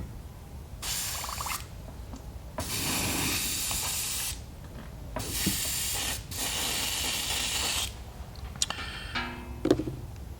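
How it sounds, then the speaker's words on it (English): An airbrush being rinsed out, blasting in bursts of loud hissing spray with short gaps between them, followed by a few brief sputters and hisses near the end. "I'll rinse the airbrush out"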